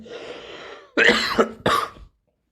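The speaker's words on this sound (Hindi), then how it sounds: "खांसी हो गई हमको क्या?" A person with a cough coughs twice in quick succession, loud and close, after a faint voice fades out.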